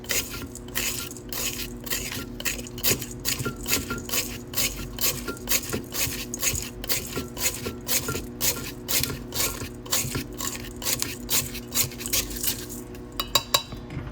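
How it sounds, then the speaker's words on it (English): Repeated metal scraping as silver crystals are scraped down from an electrolytic silver refining cell, a steady run of rhythmic rasping strokes, close and alone. "Cell number 1, we'll get in here and scrape down the silver."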